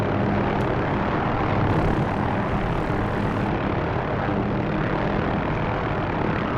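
An OH-6 Loach light helicopter in the DCS flight simulator holds a dense, loud, steady rotor and engine roar while setting down toward a helipad, with no speech.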